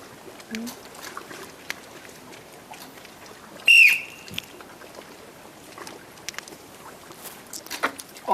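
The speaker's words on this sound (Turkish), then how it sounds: "İki dakika süren düdük sesiyle başlayacak" A single loud, shrill whistle blast starts an archery balloon-popping game outdoors, lasting under a second, with faint voices and water or wind sounds around it.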